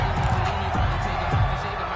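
Steady stadium crowd roar in an American football video game on PS4, a dense continuous wash of cheering from a large distant crowd, without clear peaks.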